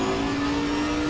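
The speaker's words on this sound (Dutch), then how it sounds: "Heel aardig motorgeluid." Bentley Continental GT3 engine in the Assetto Corsa Competizione racing game, a loud, steady mid-pitched drone with a strong held tone, sounding like the car at constant revs with no voices over it.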